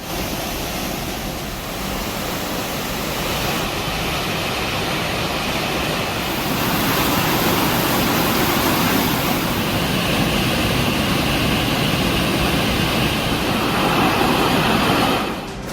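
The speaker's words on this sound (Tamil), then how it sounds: "பெய்த கனமழையால் அருவியில் தொடர்ந்து வெள்ளப்பெருக்கு ஏற்பட்டுள்ளது" Kumbakkarai waterfall in flood after heavy rain, a loud, continuous roar of rushing water that swells slightly louder partway through and holds steady to the end, with no voices.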